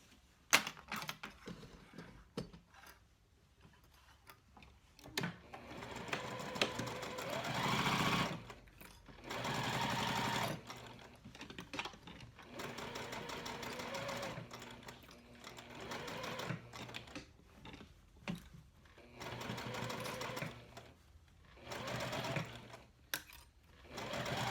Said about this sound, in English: Get this one sewn in.